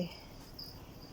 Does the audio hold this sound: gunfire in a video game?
no